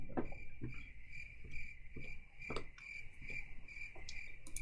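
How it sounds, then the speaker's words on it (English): Crickets chirp as a comedic sound effect, a steady high trill with regular pulsing chirps repeating throughout, clear and alone with no talk. "I've only got crickets."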